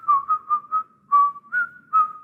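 Someone whistles Tchaikovsky's Dance of the Mirlitons from The Nutcracker, a clear, close, solo melody of seven short rhythmic notes in two phrases, with nothing else heard.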